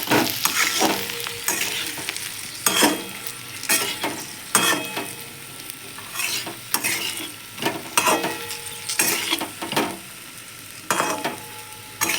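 Stuffed okra coated with masala fries in a pan over very low heat, giving a steady soft sizzle broken by repeated scraping stirs of a spatula against the pan, with no voices.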